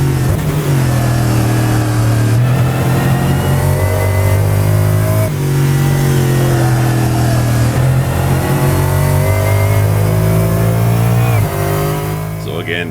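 Lexus GT3 race car in a racing video game, its engine roaring loud and steady, revving up through the gears with sharp shift dips and climbing pitch, dense and continuous throughout.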